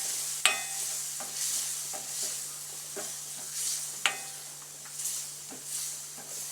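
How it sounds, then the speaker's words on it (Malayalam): Coriander and chili powder fry in a pan for chickpea curry and are stirred with a spoon. Regular scraping strokes sound over a soft, continuous sizzle, and two sharper taps stand out. "മല്ലിപ്പൊടി, മുളക് പൊടി എല്ലാം നന്നായിട്ടൊന്ന് മൂത്ത് കിട്ടാനായിട്ട് ഇച്ചിരി കൂടെ ഒന്ന് ഞാനൊന്ന് എടുത്തൊന്ന് നന്നായിട്ടൊന്ന് ഇളക്കി കൊടുക്കാം."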